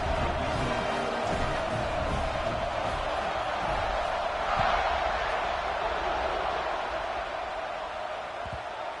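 A stadium crowd at a Texas Tech college football game buzzes and roars steadily through the whole stretch after a score, loud and dense, with a broadcast voice faintly audible over the noise.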